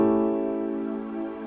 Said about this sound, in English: So A dominant chord is going to sound like this.